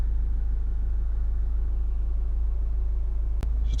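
Diesel engine of a Honda CR-V 1.6 i-DTEC SR idling steadily, a constant low rumble close by with no speech, briefly broken by a single sharp click near the end.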